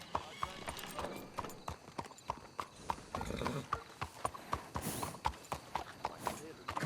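Horses clip-clop at a walk in the Red Dead Redemption 2 video game, a steady run of close hoof knocks with occasional snorting, while characters talk quietly over them.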